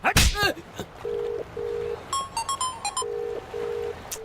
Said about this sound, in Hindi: रुक, पहले सूर्या को फोन लगाता हूँ।